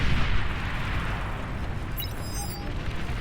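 Chain collapse explosions in the strategy game Beyond All Reason, a dense continuous rumble of overlapping booms with faint high chimes, steady and loud throughout.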